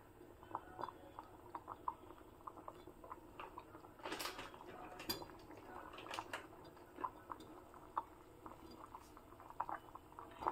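Tomato saaru (rasam) simmering in a pot on a stove, with a soft, steady bubbling and faint popping that continues throughout, fairly quiet and close.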